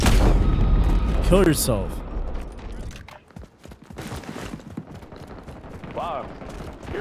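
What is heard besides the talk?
gunfire in Modern Warfare multiplayer video game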